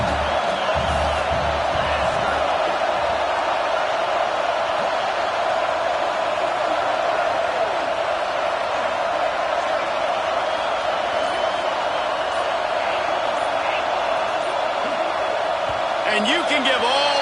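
A stadium crowd roars at a Tennessee versus SMU college football game, a dense, loud, unbroken wash of noise that holds steady throughout.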